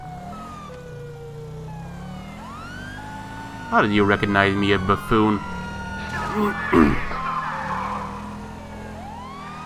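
Police car siren in Grand Theft Auto V, wailing up and down in rising and falling sweeps throughout, with someone talking over part of it.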